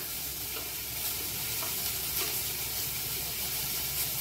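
Hog plum and tomato chutney cooks in a pan, giving a steady close sizzle and hiss with faint stirring clicks scattered through, and no one speaking.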